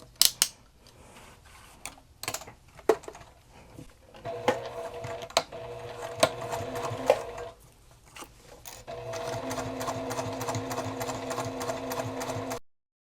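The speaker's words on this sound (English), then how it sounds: "we're going to base stitch all the way around" Sewing machine basting around a bag seam, starting and stopping in short bursts before a long steady whirring run near the end, with a few clicks and handling noises between stitches.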